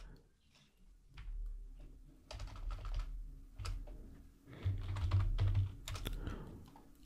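Fingers typing a command on a computer keyboard, a quick irregular run of soft clicking keystrokes with short pauses, close and fairly quiet, ending in a sharper final key press.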